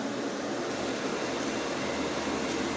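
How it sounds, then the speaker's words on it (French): An electric fan runs during scale model painting of a 1/24 Fujimi McLaren F1 GTR Long Tail kit, producing a steady, even whooshing hum with no talk. "Je vais faire un peu de bruit avec le ventilo."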